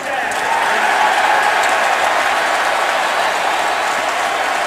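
Stadium crowd cheering at a 2011 NFL football game, Chiefs at Raiders, a loud, sustained roar of many fans with scattered claps, continuous throughout.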